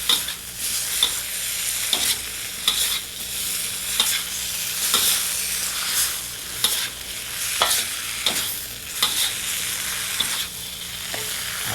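Fried tofu is stirred into fried noodles in a hot pan: a continuous sizzle broken by regular clacks and scrapes of the utensil against the pan, close and fairly loud, with no talking.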